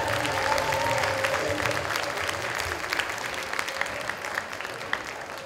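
An audience claps together after a stage performance in Auckland, New Zealand, a sustained, dense burst of applause that slowly thins toward the end, with a few scattered voices mixed in.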